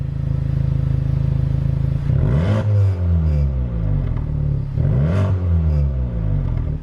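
A 2023 Honda Civic Type R with a modified exhaust, idling with a deep steady drone, then revved twice in comfort mode, each blip rising sharply and falling back to idle, loud and close, no talk.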